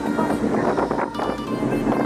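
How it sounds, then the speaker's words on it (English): Strong wind buffets the microphone outside a boat at Disney, a loud, gusting roar with low rumbles that swells and dips unevenly across the moment, no speech over it. "is windy as hell!"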